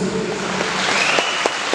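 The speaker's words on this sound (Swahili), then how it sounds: "tuwapigie hawa watu makofi kwa Yesu." A church congregation at an evangelism seminar applauds, a steady wash of clapping with a few sharper individual claps standing out near the end.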